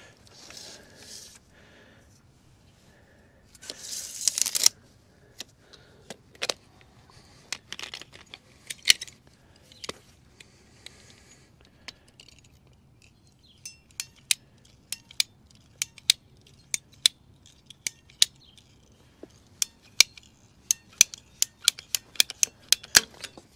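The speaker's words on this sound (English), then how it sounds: "We'll cut our pipe at 28 inches." A sprinkler pipe being cut to length with a pipe cutter, heard as a long series of sharp, close ratcheting clicks. The clicks come in irregular bursts with brief pauses between them, and nobody talks over them.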